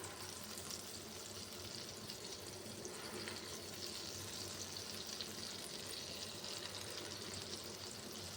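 Rosbora lentil fritters fry in hot white oil with a soft, steady, bubbling sizzle that runs unbroken and fairly quiet, heard close without any talking.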